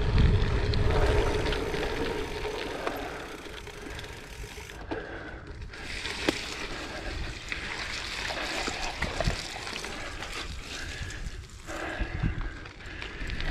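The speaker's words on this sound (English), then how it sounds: "the first thing I've done is gone through a load of puddles and mud" A Planet X Tempest titanium gravel bike rolls through puddles and mud, giving steady broadband tyre rumble and splashing with ticking freewheel ratchet clicks, a brief lull mid-ride, and no talking.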